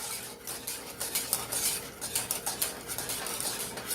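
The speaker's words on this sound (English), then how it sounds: "You're going to whisk that in." A whisk clinks and scrapes rapidly against a pot as eggs are stirred into hot milk for a banana pudding pie filling, a close, rhythmic metallic rattle with no talking.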